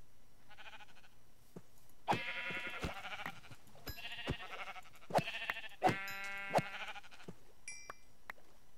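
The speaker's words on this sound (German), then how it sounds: "Oh, da sind Schafe." Several bleats from sheep in the Minecraft video game, repeated in separate calls with short pauses between them, clear and close over a quiet background.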